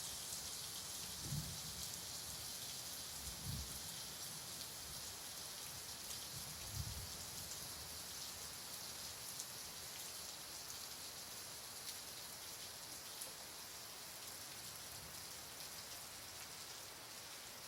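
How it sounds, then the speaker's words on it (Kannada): Heavy monsoon rain in Karnataka pours down as a steady, dense hiss, with a few faint low thumps early on and no voices. "ಹಲವೆಡೆ ಭಾರಿ ಮಳೆಯಾಗ್ತಾ ಇದೆ"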